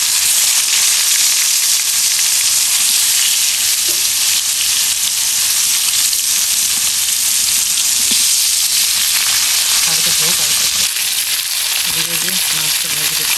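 Fish frying lightly in a pan, a loud dense continuous sizzle close by, with a few small clinks and stirring touches near the end and some faint voice underneath.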